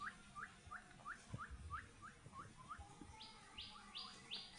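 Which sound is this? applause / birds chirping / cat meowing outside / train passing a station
birds chirping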